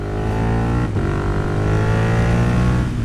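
A KTM Duke motorcycle with a loud exhaust revs hard and close, a continuous droning roar whose pitch climbs steadily after a brief dip, loud throughout with no voices.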